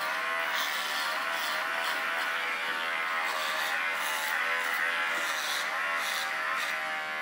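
Electric clippers shave a standard poodle's coat in a straight line back to the last rib during a continental clip at a grooming event, a steady close buzz holding unbroken and alone for about seven seconds.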